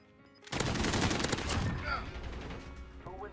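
Rapid bursts of gunfire in a video game, loud and close, with a dense volley of shots that tapers off, while a voice speaks briefly in the background.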